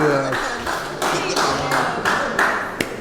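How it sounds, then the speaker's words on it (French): Crowd applause for a game show contestant comes in bursts of clapping, fairly close, with people talking between the claps. "Merci, applaudissez-le s'il vous plaît."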